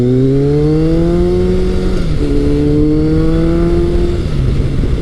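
Retro superbike engine, a Honda CB1100 or Kawasaki ZRX1100, accelerating hard up close, loud rising whine climbing through two gear changes with a brief dip between, alone without talk.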